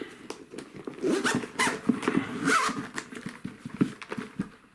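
A zipper on a headphone carrying case rasps open and shut in several quick, close pulls, with light handling clicks and rustles between them.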